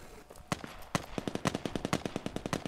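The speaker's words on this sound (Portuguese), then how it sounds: "Ó, tem tiro aí." Rapid bursts of automatic gunfire in a multiplayer first-person shooter, a quick irregular string of sharp shots at mid distance with no talk over them.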